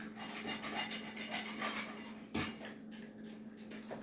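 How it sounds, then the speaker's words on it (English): Wax caps are scraped off honeycomb with a rake during honey extraction, giving quiet, close, continuous scratchy rubbing strokes with one sharper knock midway, under a steady low hum. "So you're kind of trying to just rake the caps off a little bit with"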